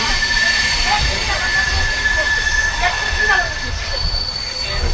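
Steel wheels of the Matsyagandha Express passenger train squeal loudly and continuously as the emergency brake grabs, a sustained high metallic screech with rumbling underneath.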